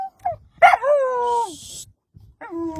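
A stray dog gives a sharp bark that trails into a long falling whine, then a pause and another short whining cry, with faint hiss and low background noise between.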